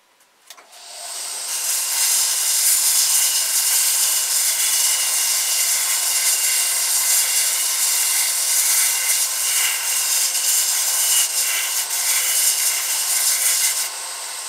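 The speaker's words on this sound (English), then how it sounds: "And we're going to sand this stick down just a little bit." A wooden stick is sanded by hand in a continuous, close, scratchy rasping that runs steadily for over ten seconds before easing off, with no talking.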